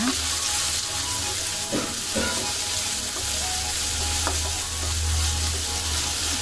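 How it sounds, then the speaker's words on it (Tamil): Onions fry in hot oil with crackling curry leaves, a continuous close sizzle with occasional scraping stirs of a spoon in the pan, and no voices. "கருவேப்பிலை நல்லா பொரிஞ்சோடனே ஆனியன் போட்டு நல்லா வதக்கிங்க"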